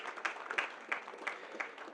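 Audience applause at an architects forum in Lagos, a fairly faint, steady patter of scattered clapping with small swells, no voices over it.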